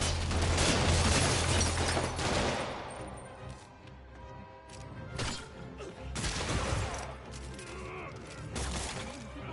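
Henchmen fire guns during a fight in Marvel's Spider-Man Remastered, with dense bursts of gunfire, impacts and crashes layered over game music and effects throughout.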